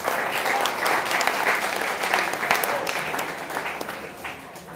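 Steady, enthusiastic applause from an audience at a 2018 Calgary Premier League athlete draft announcement, with dense clapping holding at a constant level throughout and no speech over it.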